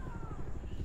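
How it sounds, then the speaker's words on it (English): A helicopter in the Far Cry 6 video game gives a brief, steady rotor chop with a pulsing low thump, mixed with a voice. "Helicopter. I need to go."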